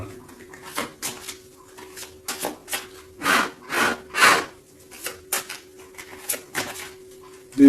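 Tarot cards being shuffled by hand, a series of soft papery riffles and slides at close range, irregular in rhythm, with a steady faint hum underneath.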